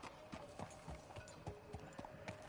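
Horse hooves clip-clopping at a steady walk on a trail in Red Dead Redemption 2, regular close thuds with faint ambient background.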